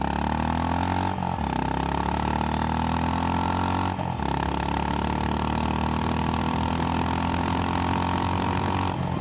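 A Honda GB350S motorcycle, loaded with gear on the back, accelerates from 0 to 100 with a loud, steady engine roar that climbs in pitch, broken by two brief dips at gear changes.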